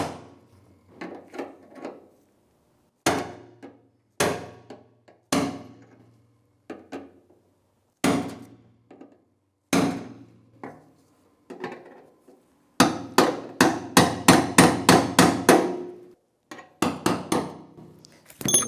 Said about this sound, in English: I'm going to tap on one of these tabs. Just take your brass punch and spin the ring around.